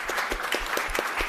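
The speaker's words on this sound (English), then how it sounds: "let's have a round of applause for our panelists" Workshop audience applauds the panelists with a brief, steady patter of clapping hands, moderately distant and even in level, without any voices.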